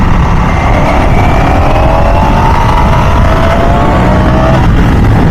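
A 2025 Ducati Panigale V4 motorcycle engine runs loud and steady, a continuous rumbling drone with slowly rising tone, close and alone without voices.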